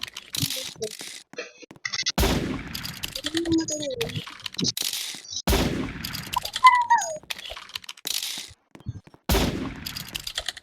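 Sniper rifle shots in a shooting video game ring out as a few loud, abrupt blasts with decaying tails, mixed with game effects and people talking in the room.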